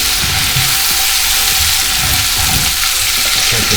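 Chopped onion sizzles steadily in a hot pan for a chicken fajita filling, with soft scraping and shuffling as a spatula stirs it through, loud and close with no talking.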